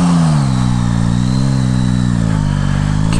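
A 2021 Yamaha Tracer 9 GT motorcycle pulls hard through the gears on a road, a loud close engine note rising steadily in pitch as it accelerates, with wind rush behind it.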